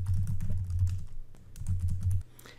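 Close keyboard clatter from typing text into PowerPoint 2016 slides, steady keystrokes in two runs separated by a brief pause, over a low background hum.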